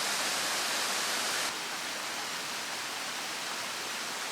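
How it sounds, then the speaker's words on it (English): A dense, steady roar of rushing water, broad and hissing like a nearby waterfall in Madagascar, slightly softer after the first second and a half. "Even now, waterfalls roar all around."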